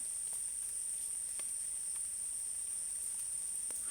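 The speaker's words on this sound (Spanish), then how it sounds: "Gotas de lluvia golpeteando ligeramente al dosel." Sparse, light drizzle taps on the forest canopy leaves at irregular intervals, beneath a steady high-pitched drone of insects.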